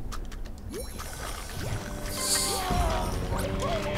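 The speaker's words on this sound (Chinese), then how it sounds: "水上摩托车是不是？" Jet ski splashing and rushing across water in the game Hungry Shark World, a continuous watery wash that builds louder toward the end, with brief game effects over it.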